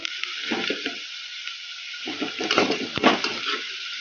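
Onions sizzle in hot oil in a pan for a village-style drumstick sambar, with a steady hiss broken by a few bursts of crackling and stirring.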